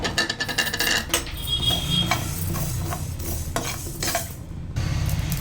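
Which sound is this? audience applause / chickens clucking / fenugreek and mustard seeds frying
fenugreek and mustard seeds frying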